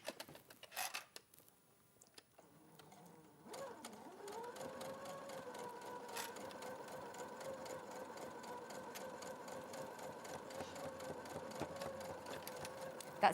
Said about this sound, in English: I'm just going to chain piece those down the side.